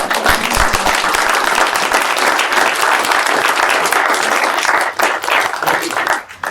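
A crowd at a school board meeting applauds steadily, dense clapping filling the whole stretch before tapering off near the end.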